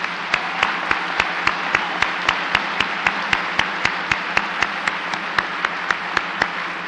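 Sustained applause from a high school commencement crowd, with sharp claps landing in a steady, even rhythm throughout.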